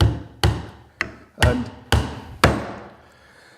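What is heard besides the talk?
Vaughan 20oz all-steel claw hammer tapping in a pin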